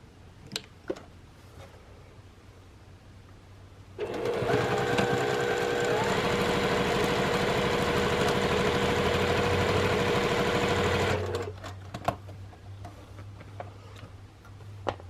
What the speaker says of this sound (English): now I'm going to sew the last 2 together